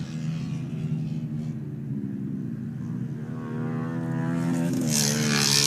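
Ice racing cars on a frozen track in Bloomer, Wisconsin, roar down the backstretch, a steady droning engine rumble that swells louder toward the end as they draw closer.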